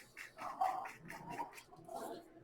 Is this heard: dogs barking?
yes